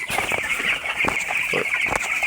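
Several chickens cluck in short, scattered bursts over a steady hissing background at night, after a fox attack, close by with no one talking.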